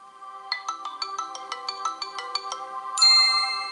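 Startup jingle of a TIMMY M20 Pro Android 6.0 smartphone switching on: a quick run of bright chiming tones in a rhythmic pattern, ending in a sustained higher chord, clear and close with no talk.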